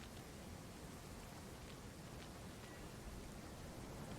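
Steady rain fills the outdoor scene of the gothic mystery point-and-click game Castle Dornstein, an even, dense hiss of falling drops throughout with no talk over it.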